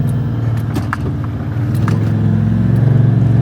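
A Toyota Land Cruiser 79 Series climbs an offroad hill in low-range third gear with the lockers engaged, its diesel drone loud and close. The engine holds around 2,500 rpm and builds steadily as it pulls.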